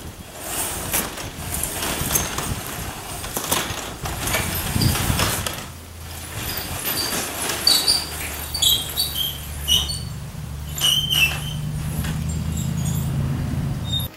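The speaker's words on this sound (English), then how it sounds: "you're gonna see how much effort I'm gonna put to pull open the garage door." A stuck garage door being pulled open gives off scattered high squeaks and creaks over rattling, clattering noise. A low mechanical hum runs steadily through the second half.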